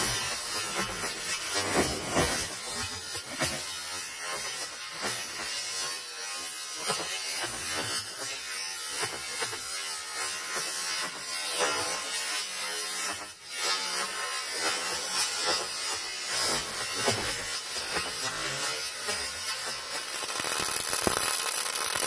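A power tool cuts steadily through the metal equalizer balance beam for the leaf springs between the two axles of a gooseneck trailer, a loud, continuous buzzing grind lasting over twenty seconds with no talk.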